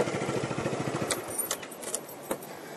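Motorbike keys jangle and click in the ignition while parking on a road trip in Koh Chang, Thailand, a quick rattling run followed by a few sharp metallic taps, close and fairly quiet.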